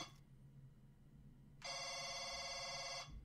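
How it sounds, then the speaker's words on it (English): A wired household phone rings in one sustained, loud trill lasting about a second and a half, heard alone against a quiet background. "Oh no, that's a wired household phone."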